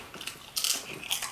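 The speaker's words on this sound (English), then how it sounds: "I like the crunchy crust." Several sharp, crisp bites into thin-crust meat lover pizza, close and fairly quiet, with three short crunching bursts and no talk.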